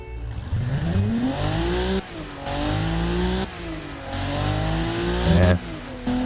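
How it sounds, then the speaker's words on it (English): A car engine in a video game revs up repeatedly, slightly diesel-like with little turbo noise, its pitch climbing with each run before dropping as it shifts, loud and close with no talking. "let's have a listen to the engine"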